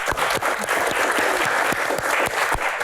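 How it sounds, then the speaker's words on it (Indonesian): An audience at a talk applauds continuously, a steady and fairly close wash of many hands clapping, with a few sharper individual claps standing out. "Tepuk tangan luar biasa."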